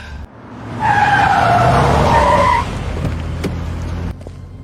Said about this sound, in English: Turn the car around. Back to the house. Now.